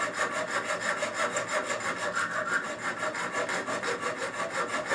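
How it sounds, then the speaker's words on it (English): A hacksaw cuts through soft aluminum stock held without a vise, with steady back-and-forth rasping strokes in a fast, even rhythm, close and fairly loud throughout. "Use a hacksaw. This is soft aluminum, so it cuts very easily."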